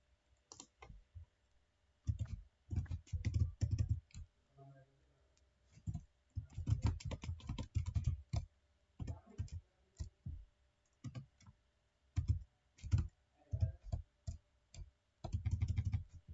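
Computer keyboard keys clatter in quick irregular bursts separated by short pauses while entering formulas, close and fairly quiet, with no talk.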